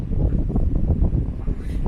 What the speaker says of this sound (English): I just wish it was less windy